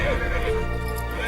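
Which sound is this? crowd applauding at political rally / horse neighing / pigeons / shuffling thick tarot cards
horse neighing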